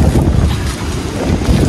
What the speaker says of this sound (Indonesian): Pantainya, wah ombaknya kenceng habis.